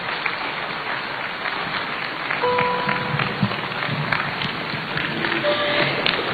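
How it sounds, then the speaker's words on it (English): Audience applause in the UPSA Auditorium after the 14th J.E.A. Mills Commemorative Lecture, a steady, dense wash of clapping from a large crowd that holds fairly even throughout, with a few faint tones and voices scattered beneath. "A round of applause, ladies and gentlemen."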